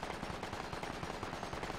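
Assault rifle gunfire in the video game Project Reality, a rapid steady burst of automatic shots firing in quick succession for nearly two seconds without pause.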